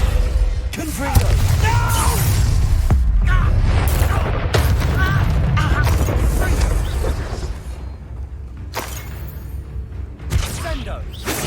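Blasting curse explosions from Hogwarts Legacy, a video game, burst in heavy booming waves through much of the stretch, loud and dense, with shouted voices mixed in among the impacts and fading toward the end.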